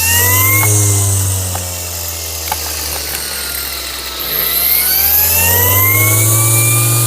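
A cordless power tool running on a Tigron 21V lithium battery whines steadily and loudly up close, its motor pitch dipping briefly midway before spinning back up.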